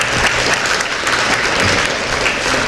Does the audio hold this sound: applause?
yes